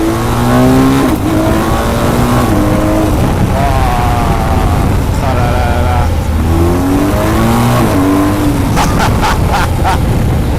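Loud, close BMW R1250 GS motorcycle engine revving up through the gears, pitch climbing and dropping with each shift, under constant wind roar.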